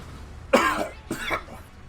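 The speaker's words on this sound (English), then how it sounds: "Whoever invented coughing, I swear." Two harsh coughs close by, a sharp one followed by a slightly weaker one a moment later, alone with no talking.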